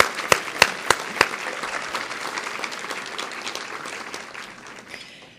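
Applause from an audience of men and women at a businesswomen's awards ceremony, opening with a few sharp, loud claps and then settling into a steady wash of clapping that gradually fades over several seconds.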